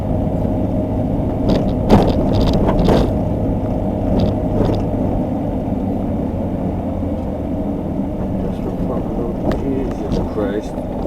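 A van driving over a badly disintegrating road after leaving the city, with a steady close engine and road rumble and scattered bumps and rattles from the rough surface.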